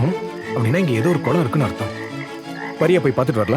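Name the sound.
frogs croaking somewhere nearby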